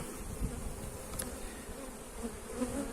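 Honeybees buzz around an open beehive during a brood check, a steady, fairly soft drone of many wings with a few individual bees passing closer, and no speech.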